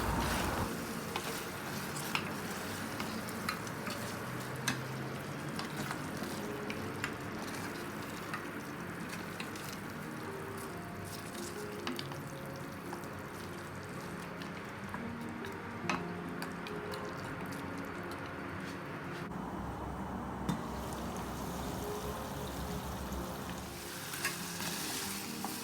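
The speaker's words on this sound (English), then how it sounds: "Now add the onion paste to the gravy, give it a good mix and cook for 2 to 3 minutes." Onion paste cooks in a simmering mutton gravy and is stirred through it, a steady wet bubbling sizzle with scattered spoon scrapes running close and continuous, with no talking.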